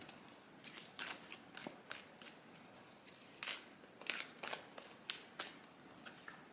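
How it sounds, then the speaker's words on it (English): A deck of tarot cards being shuffled, a run of crisp riffling bursts with short pauses between them, close and fairly quiet, with no voices. "Let me just give it a couple more shuffles."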